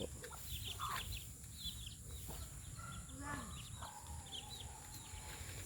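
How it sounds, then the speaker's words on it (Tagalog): Chickens cluck and call faintly at intervals over a steady background rumble, with a person talking through part of it. "Mga manok po."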